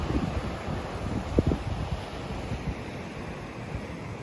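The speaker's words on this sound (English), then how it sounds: "So we got the river right here." Vallecito Creek rushing close by a campsite, a constant broadband wash of flowing water with light wind, plus a couple of brief knocks partway through.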